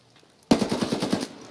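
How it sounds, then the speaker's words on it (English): Video game gunfire: a sudden close burst of rapid automatic shots, about eight cracks in quick succession, loud and alone after near silence. "Oh, you're getting shot at, bro."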